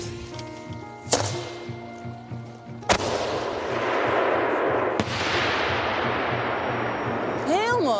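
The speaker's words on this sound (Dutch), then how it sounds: "Die bloemenachtige, ja, echt vuurwerkdingen vind ik wel veel leuker dan die knallen." Fireworks go off outdoors as three sharp bangs sound at spaced intervals, each followed by a long crackling hiss, and a whistling rocket rises near the end.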